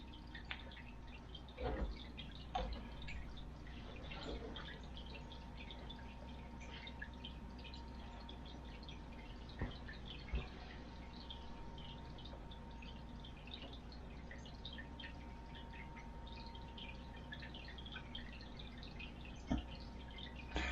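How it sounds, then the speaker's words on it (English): Water drips slowly from an acclimation line into an aquarium of shrimp in a fishroom. Sparse, irregular, faint drips sound over a steady low hum, with no talking. "And I had been drip acclimating those shrimp for about 3 hours now."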